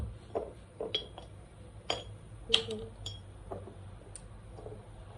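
Cutlery and a spoon clink against dishes and glass in a kitchen while coffee is prepared, a series of light, close metallic chinks spaced irregularly over a quiet background.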